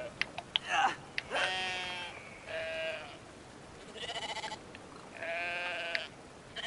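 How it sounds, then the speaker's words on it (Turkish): Sheep in the video game Brothers: A Tale of Two Sons bleat several times in a row. The cries are drawn-out and wavering, close and fairly loud, with short gaps between them. "Bir tane koyun alalım."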